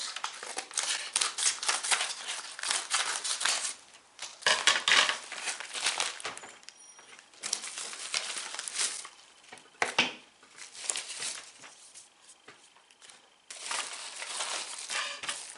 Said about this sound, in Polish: Dobra, mamy paczuszeczkę, otwieramy